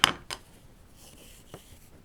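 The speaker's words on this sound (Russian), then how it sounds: "ниточку обрезаем" Metal scissors snip through crochet yarn, two quick crisp clicks close together at the start, then a fainter snip, close and otherwise quiet.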